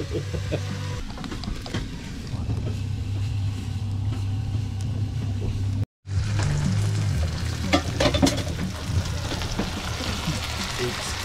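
Food sizzles steadily and loudly in a pan in a boat's galley, with a continuous frying hiss, occasional stirring scrapes, and a very brief break partway through.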